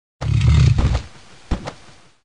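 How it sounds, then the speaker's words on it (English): A loud, throaty animal roar bursts out for about a second, then fades, followed by a shorter second grunting roar. "Rhinoceros."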